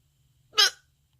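A single sharp hiccup from a person, brief and close, standing alone in an otherwise quiet room.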